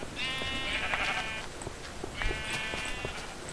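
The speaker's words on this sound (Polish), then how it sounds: "One wychodzą, te owce." Sheep in the video game Minecraft bleat twice, each a wavering, nasal call about a second long, clear and fairly near over a soft background hiss.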